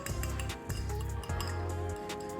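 Spoon clinking in a bowl while ingredients are mixed in a home kitchen during evening snack preparation. Several sharp clinks sound close, alongside short repeated bursts of low humming.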